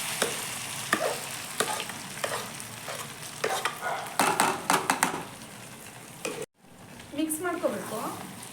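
Cooked moong dal and rice get stirred into a pan of fried seasoning for savory pongal, with a soft sizzle under repeated scraping strokes of a spoon against the pan and a brief break before the stirring resumes.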